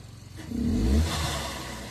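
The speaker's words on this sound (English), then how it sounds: "A little blow-off valve action." A Subaru engine revs up with a rising low roar that peaks about a second in and then settles, followed by a brief turbo blow-off valve release, close and fairly loud.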